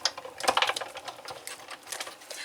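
A small die-cutting machine feeds a little paper greeting through with a rapid, uneven mechanical clatter of clicks and rattles, close and fairly loud, with no voices.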